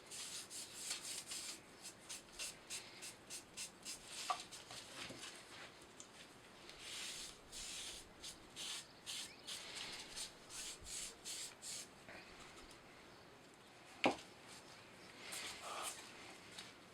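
Steady back-and-forth rubbing as wood finish is worked onto a wooden vinyl record rack, soft rhythmic strokes close by with a couple of light knocks and no talking.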